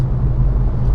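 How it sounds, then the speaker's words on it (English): Steady low roar inside a moving Citroen e-C3 electric car on a windy day, wind noise rushing past the cabin with a broad rumble, continuous and close, with no talking. "It's a lot of wind noise."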